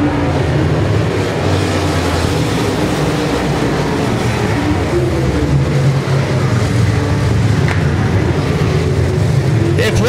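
Modified race cars racing on the oval at Paragon Speedway, a continuous loud engine roar with shifting pitch as the cars pass, with a commentator talking over it.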